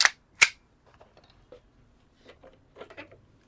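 An airsoft gun fires test shots to check its out-of-the-box velocity: two sharp, loud snaps about half a second apart, then faint clicks and handling sounds.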